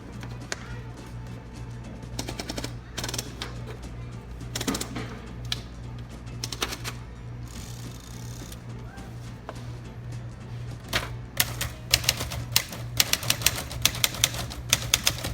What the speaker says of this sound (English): Now we're going to do a quick typing test.